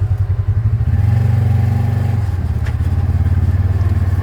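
A farm tractor engine runs steadily close by on rural land in Arkansas, a loud low rumbling drone with a rhythmic chugging pulse that swells briefly in the middle, with no voices over it.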